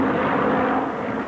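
A Lancaster bomber flies overhead, its piston engines and propellers making a loud, steady droning roar that holds evenly for a moment with no one speaking.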